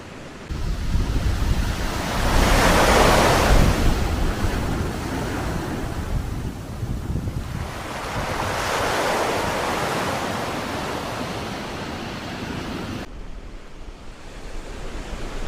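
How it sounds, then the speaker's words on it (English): Ocean waves roll onto the shore at Aberystwyth in Wales, two slow surges of hissing surf rising and fading over a constant windy wash. "There's just something therapeutic about watching the waves coming in."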